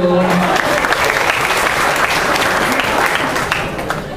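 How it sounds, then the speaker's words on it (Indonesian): A stand-up comedy audience in Bali claps loudly and continuously, a dense wash of applause with a few cheers that eases slightly toward the end. "beri tepuk tangan dulu."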